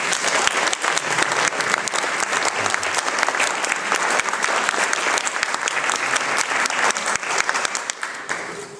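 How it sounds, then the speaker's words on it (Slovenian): Audience at a literary evening with Drago Jančar applauds Ludwig Hartinger: dense, steady clapping from a full room that stays loud and even for the whole stretch. "Mislim, da si Ludwig ob današnjem obisku zasluži še en poseben aplavz."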